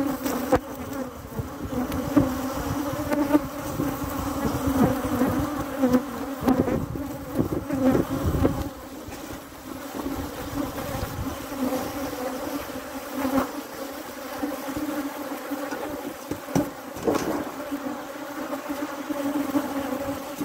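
Dense, steady buzzing of honey bees swarming around an opened hive as a beekeeper removes supers one by one, a loud close drone with shifting pitch and no talk.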